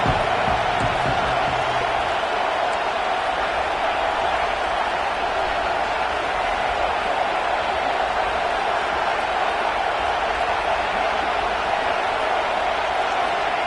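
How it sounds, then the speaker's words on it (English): A stadium crowd roars in the college football video game NCAA Football 26, a dense, steady wash of cheering noise that stays loud and even throughout. "This crowd bringing the energy and noise early."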